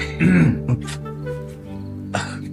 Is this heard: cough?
yes